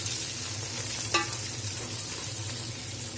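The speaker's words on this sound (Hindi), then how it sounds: "और कम आंच पे मैं इसको हल्के से फ्राई करूँगी।" Chopped vegetables with a big bunch of coriander frying gently on low heat, a quiet continuous sizzle with one sharp utensil clink against the pan, no talking.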